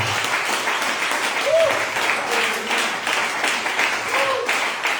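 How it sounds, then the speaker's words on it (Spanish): A church congregation applauds loudly with steady, dense clapping that lasts several seconds, while a voice calls out briefly over the top now and then. "Denle un aplauso fuerte a Dios en esta hora."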